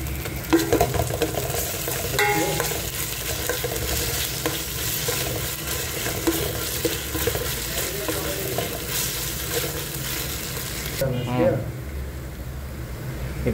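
Ginger garlic paste fries in hot oil in a small room kitchen, a dense close sizzle with stirring scrapes under someone speaking, the sizzle dropping off sharply near the end.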